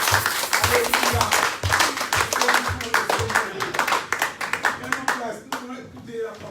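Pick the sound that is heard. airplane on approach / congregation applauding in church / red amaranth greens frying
congregation applauding in church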